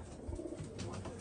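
Pigeons coo in a loft housing Iraqi pigeons, a low, continuous murmuring roll of coos close by, steady and moderately loud throughout with no talking.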